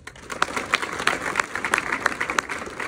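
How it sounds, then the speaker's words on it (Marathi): An audience claps at a spiritual gathering with a yogi's blessing for cow-protection work, a soft, rhythmic patter of hands, fairly distant and continuing steadily throughout. "टाळ्या वाजवा."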